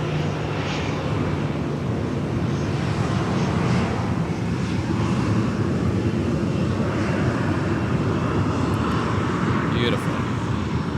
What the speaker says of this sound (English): Sun Country 622 arriving from Harlingen. Nice close taxi there.